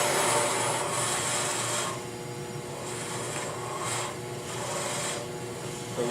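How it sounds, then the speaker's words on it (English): A turning tool cuts a wooden bottle stopper on a wood lathe, making a continuous close raspy shearing hiss that eases slightly after the first couple of seconds, with no talking. "So we're just lifting the handle up and cutting. We're not scraping."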